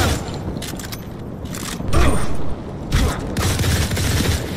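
Gunfire in the video game Modern Combat 4: Zero Hour, with bursts of shots and booms over a busy, steady game soundscape, loud and close, with no talk.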